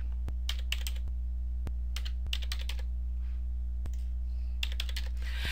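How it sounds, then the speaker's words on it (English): Keys tapped on a computer keyboard in short irregular clusters, with sharp isolated clicks between them, close and fairly quiet over a steady low hum. "I'm just using the keyboard and hitting the slash key for the division symbol"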